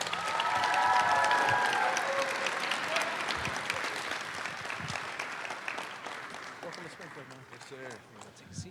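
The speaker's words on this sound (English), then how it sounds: "Ladies and gentlemen, please give a round of applause to Mr." A crowd claps and cheers loudly to welcome former LSU basketball player Glen Davis at a live summer event, the applause peaking early and gradually tapering, with scattered shouts and voices mixed in.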